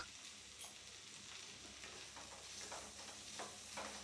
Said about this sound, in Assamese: এতিয়া মাছৰুমখিনিও আমি ভালকৈ মিহলাই ল'ম